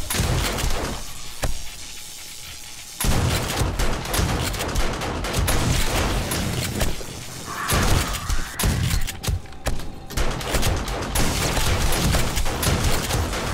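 Rifle loaded with AP ammo fires rapid, loud, close bursts in 7 Days to Die, dense overlapping shots with booming thuds, heavy and sustained with brief lulls.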